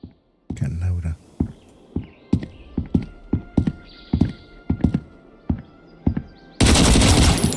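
Gunfire in the video game Road to Vostok, with a rapid series of a dozen or so sharp, loud shots at uneven intervals, some in quick pairs, then a burst of dense, noisy roar at the end.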